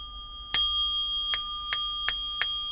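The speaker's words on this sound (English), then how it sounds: "like this bell, boom." A small metal bell is struck five times at irregular intervals, each strike bright and ringing with sustained pure tones that linger between hits, heard close and alone.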